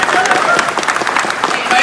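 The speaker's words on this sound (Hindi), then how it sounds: "ताली बजाओ" Audience at a BJP political rally in Mulbagal, Karnataka, clapping in a short, steady, loud burst of applause while a voice speaks over the crowd.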